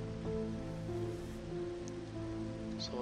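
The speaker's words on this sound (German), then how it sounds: "Sieht nach Regen aus." Steady rain falls in the video game Shadow of Light, a dense, even hiss that runs unbroken and fairly loud with no voices over it.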